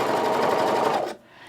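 A serger sewing and cutting the fabric of a classic tee runs as a steady, fast mechanical whir up close, then stops abruptly.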